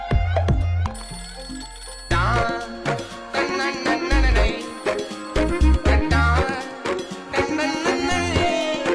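A telephone rings loudly and repeatedly through a busy film soundtrack, its bright ringing tones layered over dramatic music and bass hits.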